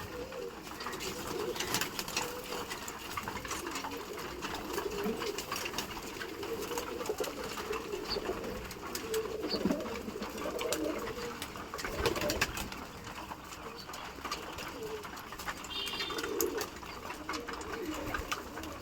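Pigeons kept as breeding stock coo steadily during a morning feed of protein food, a continuous low, near murmur of several birds with rustling throughout and no talk.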